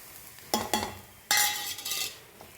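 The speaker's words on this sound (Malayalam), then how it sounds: "ഇത് രണ്ടും കൂടെ നമുക്ക് ഇതിനകത്തോട്ടിട്ട് മിക്സ് ചെയ്തെടുക്കാം." A spoon scrapes and clinks against a pan in a few quick strokes while Kashmiri chili, turmeric and fenugreek powders are stirred in, with a faint sizzle underneath.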